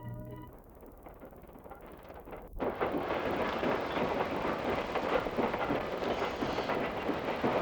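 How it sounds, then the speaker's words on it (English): Train at Plainfield station rumbling past, a steady loud roar of rail cars with faint clickety-clack that swells abruptly and holds, heard alone without voices. "Over 100 trains enter and leave Plainfield daily, carrying their many thousands of passengers to and from their various activities."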